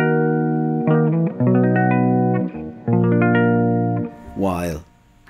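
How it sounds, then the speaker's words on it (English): Guitar strings played with an elastic band on them, sounding a run of picked notes and a few sustained chords, followed by a brief bent, wavering tone at the end. "This is just the elastic band."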